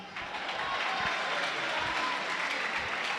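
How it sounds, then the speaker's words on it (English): An audience at a youth conference breaks into sustained applause, a dense, steady wash of clapping that fills the whole stretch with no one speaking over it. "a round of applause, please"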